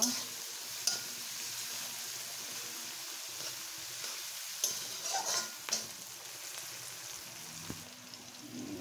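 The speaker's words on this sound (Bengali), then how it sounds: "আর পেঁয়াজ, রসুন, ঝালটা একটু ভেজে নেওয়া হয়ে গেছে।" Onion, garlic and chilli fry in a pan with a steady broadband sizzle, moderately loud and close, broken by a few sharp clinks and stirring scrapes.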